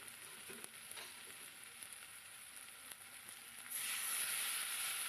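Ground cumin, coriander and ginger paste frying in a pan for a chital fish curry, a quiet steady sizzle with faint stirring ticks, swelling louder and brighter toward the end.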